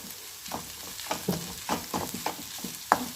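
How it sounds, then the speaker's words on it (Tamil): Onion mixture with mashed potato sautéing and being stirred in a pan for chicken samosa filling, soft sizzling under a series of distinct scraping stir strokes, close and moderately quiet. "இப்போ இது நல்லா வதங்கட்டும்."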